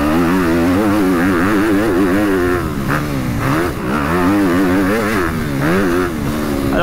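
Honda CRF 250 motorcycle with upgraded suspension, engine revving and pulling at low revs in third gear, the note rising and falling in repeated waves, loud and close with no talk.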